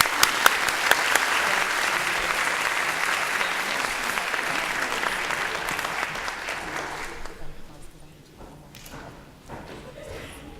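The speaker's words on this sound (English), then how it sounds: "Let's give them another round of applause." An audience applauds at a high school senior awards ceremony, loud, dense clapping for about seven seconds that then thins out into scattered claps and fades.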